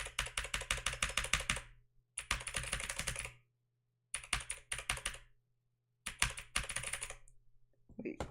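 Fingers clatter across a computer keyboard in quick bursts of rapid key taps, broken by short silences, close and fairly quiet with a faint low hum underneath and no talking.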